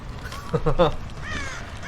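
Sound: crow cawing in the video game Dead by Daylight

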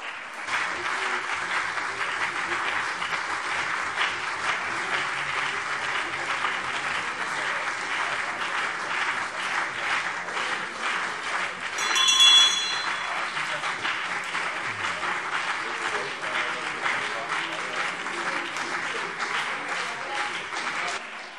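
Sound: applause in a parliament plenary session

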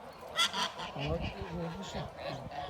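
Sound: geese honking

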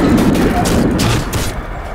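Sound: gunfire from the video game BioShock 2 Remake

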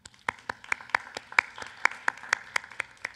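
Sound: audience applause

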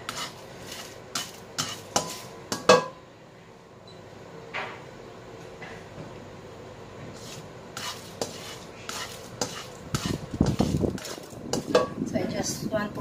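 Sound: stir frying dried chili in a wok

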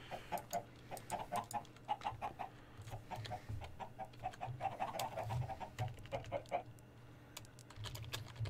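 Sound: chickens clucking in Minecraft video game

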